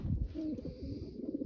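Red racing pigeon of the Janssen De Klak line, bred in 2021, giving a close, low throaty coo in a short rolling phrase.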